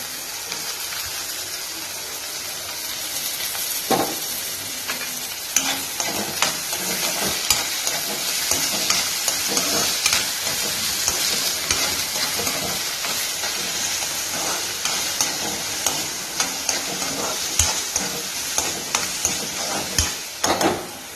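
Onions fry and sizzle in a pan with a steady hiss while a utensil stirs them, scraping and knocking at intervals, close and alone with no talk.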